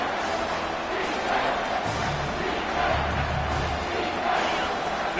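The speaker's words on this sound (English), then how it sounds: "This crowd rising up, sensing that its defense needs some help." A college football stadium crowd roars steadily, a broad, sustained wash of cheering that swells slightly as fans rise during a defensive stand, with a commentator talking over it.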